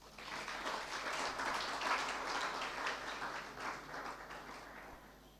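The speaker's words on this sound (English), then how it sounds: "Shall you give a clap for yourself?" University student forum audience clapping for themselves, a soft, distant wash of applause that swells and gradually fades over about five seconds.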